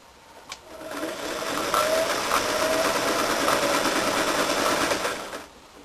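A sewing machine stitches a fabric seam in one continuous run of rapid needle clatter that starts, holds an even speed for several seconds and then stops, fairly close, with no talking.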